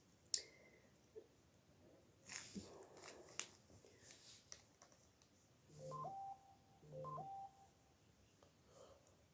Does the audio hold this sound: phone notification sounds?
yes